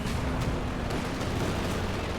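Strafing-run gunfire in the World War II strategy game Company of Heroes, a dense continuous roar of rapid shots and rumbling blasts, loud and unbroken throughout.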